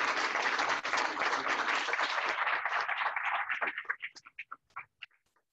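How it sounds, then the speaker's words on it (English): An audience applauding after a lecture in a hall, dense, sustained clapping that fades into scattered single claps, no talk. "So let's give Otis a round of applause."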